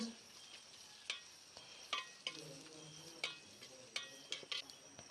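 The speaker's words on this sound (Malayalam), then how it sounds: "ഇഞ്ചി വെളുത്തുള്ളി പച്ചമുളക് പേസ്റ്റ് എല്ലാം ഇട്ട് ഇതാ നന്നായി ഇളക്കി" Ginger, garlic and green chili paste stirred in a hot pan, a soft steady sizzle broken by a series of sharp scraping clicks from a spoon against the metal, close and fairly quiet with no talk.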